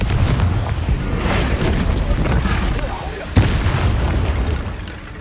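A Confringo blasting spell in the Hogwarts Legacy video game erupts in loud, sustained booming explosions, with one sharp burst partway through.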